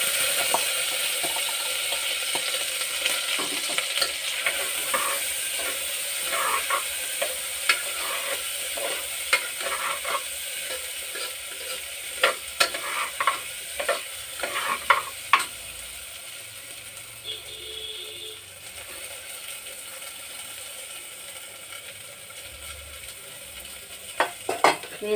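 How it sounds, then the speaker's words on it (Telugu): Rice, sago and pepper being stir-fried in a pot, a long run of scraping and stirring clatter with intermittent sharp knocks over a soft sizzle, no talking. "రైసు, సగ్గు బియ్యము, మిరియాలతో పాటు వేసేద్దాం."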